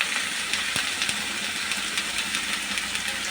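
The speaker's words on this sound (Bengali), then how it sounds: "যেহেতু সবজি ভাজি।" Vegetables with raw tomato frying in a pan over browned onion, a continuous bright sizzle with small scattered crackles and pops, no voices.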